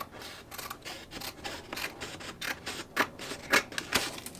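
Scissors cut sublimation paper for a 20oz skinny tumbler, a quiet series of short crisp snips coming faster toward the end, close up with no talking.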